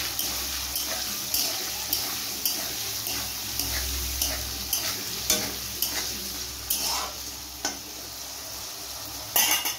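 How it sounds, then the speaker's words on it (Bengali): Potatoes frying in a pan with salt and turmeric for ghugni, a quiet steady sizzle broken by repeated scraping stirs at a regular pace, close and unvoiced. "একটু নুন আর একটু হলুদ দিয়ে আলুগুলোকে ভেজে নিতে হবে।"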